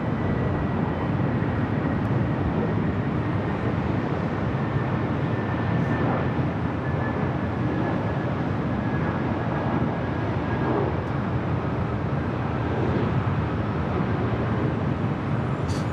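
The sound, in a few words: Boeing 777 airliner taking off at LAX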